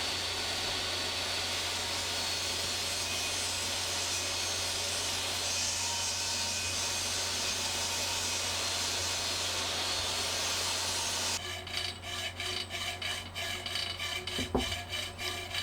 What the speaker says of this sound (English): Here I'm cutting aluminum that I'm going to make the frame plant tray holders and things out of